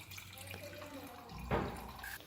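Tap water running into a container while collecting water for lemon juice, a steady splashing flow that swells louder near the end.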